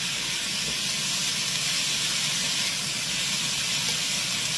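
Au jus sauce hits caramelizing onions in a hot pan and sets off a steady, close, even sizzling hiss that holds without a break.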